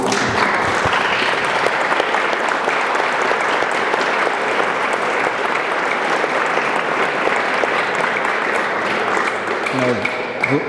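Sustained audience applause fills a conference hall as a speaker is welcomed, a dense, steady roar of many hands clapping at even loudness throughout, tapering slightly near the end.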